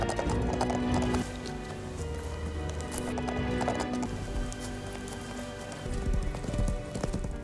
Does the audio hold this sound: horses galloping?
yes